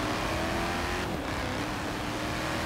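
Car engine revving in the Forza Horizon 3 racing game, Blizzard Mountain expansion, a steady broadband engine roar holding throughout with no talk over it.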